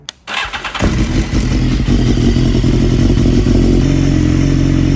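BMW HP4 superbike with a straight-pipe competition exhaust and 65mm mid pipe, no catalytic converter, starting up with a sharp bark and then holding a loud, close, steady idle rumble with mechanical clatter.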